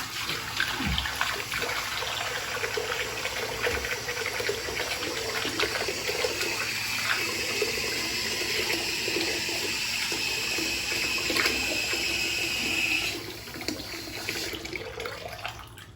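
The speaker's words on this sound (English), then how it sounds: "So I'm going to clean up this sink now." Water from a tap runs steadily into a bathroom sink during cleaning, a loud continuous splashing rush close by that eases slightly near the end, with no talking.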